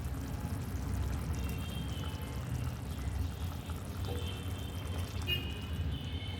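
Maida flour and water slurry is poured into a pot of cooking elbow pasta, a soft continuous trickling pour over a low bubbling simmer, fairly quiet and close.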